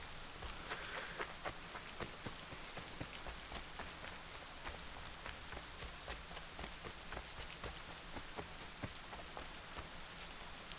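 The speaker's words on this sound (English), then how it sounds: "It's still raining, huh?" Steady rain falls throughout, a dense even patter of drops striking surfaces with scattered sharper splashes, continuous and fairly close, with no voices over it.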